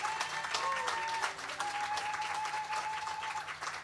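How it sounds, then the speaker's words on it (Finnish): Audience at a church gathering applauding a guest pastor, steady dense clapping throughout with a sustained tone running beneath. "Voidaanko antaa hänellekin suuret aplodit?"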